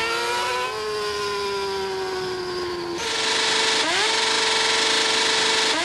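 A Honda CB1000 motorcycle revs hard through a street wheelie, a loud, close engine holding a steady drone, then jumping to a higher pitch and climbing again after a brief shift.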